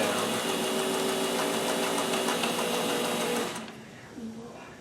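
A sewing machine running steadily while stitching decorative stitches on a shirt, a continuous even whir that stops near the end, leaving quieter handling noise.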